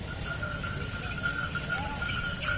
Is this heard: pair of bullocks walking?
yes